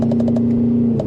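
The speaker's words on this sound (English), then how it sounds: "crackles and pops and the backfires." A Mercedes-AMG M156 V8 with a muffler delete idles with a steady hum while a quick run of sharp exhaust crackles and pops sounds, about five in a row, then one more after a pause.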